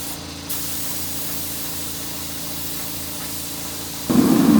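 A steady, close hiss of spray paint applying a second coat to a Massey Ferguson 1105 tractor, continuous throughout, with a louder burst near the end.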